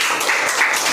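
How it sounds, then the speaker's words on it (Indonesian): Dense applause from a class of students after a group presentation, steady and fairly loud for a brief moment, with no talking. "Kita beri tepuk tangan dulu."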